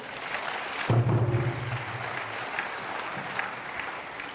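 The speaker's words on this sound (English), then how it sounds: "Let's give Professor Stephen Tabiri another hand of applause." Lecture-hall audience applauding Professor Stephen Tabiri after an inaugural university lecture, a short burst of dense clapping from a seated crowd that swells and then thins out over a few seconds.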